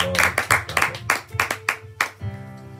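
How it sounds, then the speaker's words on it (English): A church congregation claps in praise, a run of loose, irregular claps that bunch into rough bursts and then stop, close and fairly loud, with no talking over them. "Give the Lord a clap of praise."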